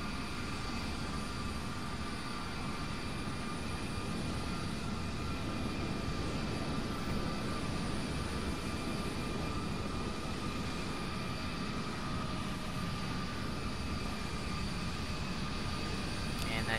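A Boeing 787 jet in a flight simulator game at JFK airport gives a steady, even engine drone that holds at a moderate level for the whole stretch, with no talk over it.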